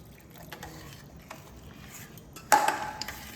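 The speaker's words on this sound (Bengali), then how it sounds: "এইবার আমি এর মধ্যে পরিমাণ মতো জল দিয়ে দেব" Water from rinsing a grinding stone used for cashew and poppy seed paste is poured into a yoghurt-based katla fish curry gravy, a sudden loud splash and gurgle near the end after quiet kitchen background.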